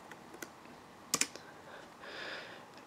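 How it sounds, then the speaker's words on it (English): Typing on a Dell laptop keyboard, a few sparse soft key taps and then a quick cluster of sharper clicks, close and quiet, followed by a faint hiss. "And I'll type in password hint."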